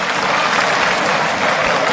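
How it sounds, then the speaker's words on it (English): A boxing arena crowd gives sustained, even applause for a beaten challenger, a dense wash of clapping from many hands at a distance, with no clear talk. "Sporting applause for a brave challenger that really wasn't in the same league."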